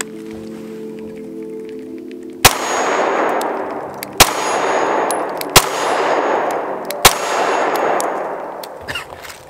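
A custom M&P 2.0 pistol, fired one-handed, lets off four sharp shots, each followed by the bright metallic ring of a struck steel target that decays over a second or more, with pauses of one to two seconds between them.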